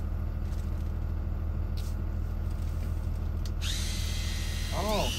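A new Snap-on brushless cordless power tool runs with a fairly quiet, steady motor whir under a constant background hum, with a rising whine near the end.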